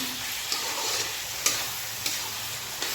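Goat meat curry sizzles in a pan while a spoon stirs it, with soft frying hiss throughout and a few sharp scraping clicks of the utensil against the pan.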